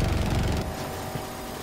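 A helicopter's rotor in Battlefield 2042 throbs in a fast, loud chopping pulse that cuts off abruptly partway through, leaving a quieter rumble of battle behind.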